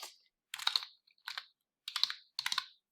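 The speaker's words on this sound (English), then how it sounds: "you're going to type in the search bar TrueBend as one word" Typing on a computer keyboard in four quick bursts of several close keystrokes each, separated by brief silences, with no one speaking.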